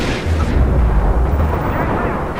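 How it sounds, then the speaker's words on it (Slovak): Loud, dense gunfire and booming blasts from the game Resistance: Fall of Man, a continuous roar of shooting close up with no clear pauses. "Tak strieľam tam jak o dušu."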